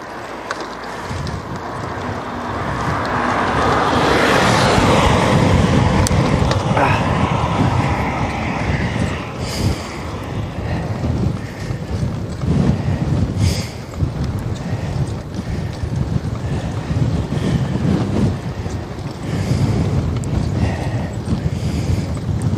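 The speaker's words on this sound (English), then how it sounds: "I feel like the wind has come from every single direction right now." Strong, gusty wind buffets a camp spot, roaring and rumbling into the microphone for the whole stretch, swelling and easing in uneven surges with broadband noise and no clear talk.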